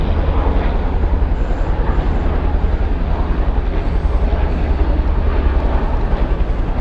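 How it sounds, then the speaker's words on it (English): A firefighting airplane flies over a wildfire near Yosemite, giving a steady, loud, broadband engine roar that holds throughout without breaks. "Here's one of the planes fighting the fire."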